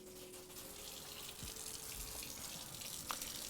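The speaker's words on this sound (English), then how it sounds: "Now we'll pour some cold water in there and give it a swish around." Cold water is poured into a used frying pan and swished around, a steady running and sloshing wash of water that stays even and close throughout, with a small splash near the end.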